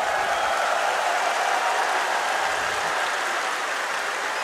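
Loud, steady roar of a crowd cheering and applauding in an esports arena after a major match result at a PGL Major quarter-final, continuous dense clapping throughout with no speech over it.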